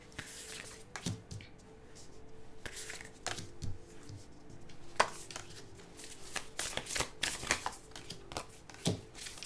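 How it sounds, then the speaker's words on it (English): Tarot cards being shuffled by hand, quiet close riffles and soft slaps coming in irregular bursts, with faint murmured talk in the background. "Okay, I'm going to take these cards."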